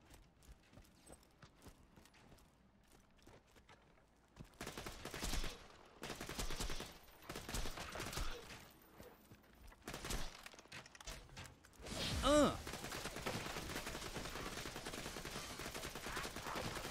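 The Anarchist shotgun in Borderlands 2's Tiny Tina's Assault on Dragon Keep fires in rapid bursts of loud gunshots, arriving in clustered volleys after a quieter opening and continuing into a dense rattle of shots.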